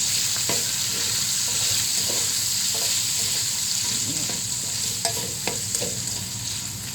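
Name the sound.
chopped chicken nuggets and sausage frying with garlic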